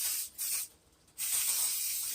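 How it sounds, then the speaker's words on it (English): Short hissing bursts of cooking spray onto a baking pan, a quick puff, a brief pause, then a longer steady spray, close and alone. "we're going to take a little baking pan and give it a little spray."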